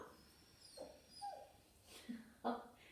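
A dog whimpers to be let in, giving several soft, high whines and yips at a distance, faint and scattered over quiet room noise.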